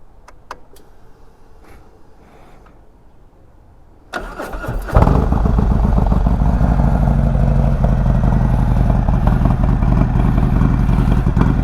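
A Harley-Davidson motorcycle engine is cold-started after a few seconds of quiet room noise, catching abruptly and settling into a loud, steady, close-up idle rumble that runs to the end.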